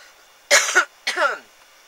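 Two quick, close coughs with a rough throat-clearing edge, separated by a brief pause in an otherwise quiet room.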